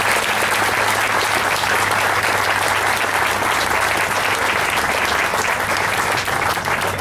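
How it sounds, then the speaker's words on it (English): Sustained applause from an audience at a Memorial Day ceremony honoring the VFW, a dense, steady wash of many hands clapping at once, loud and close, with no voices standing out. "So again, can you join me in giving the VFW another round of applause?"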